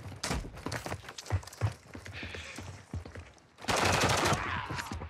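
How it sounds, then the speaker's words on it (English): Rapid automatic gunfire rattles in Call of Duty: Modern Warfare II Team Deathmatch, volleys of close shots broken by short pauses, then a louder sustained burst of fire near the end. "Taking effective fire."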